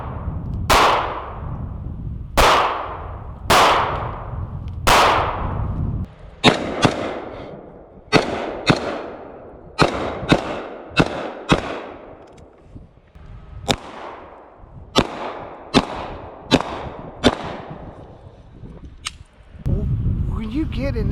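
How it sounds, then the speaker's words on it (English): Pistol shots ring out at an outdoor off-grid range, around twenty sharp, loud reports, first spaced widely, then fired in quicker bursts of two and three, each with a brief echoing tail. "Let's transition to do a couple of pistol shots."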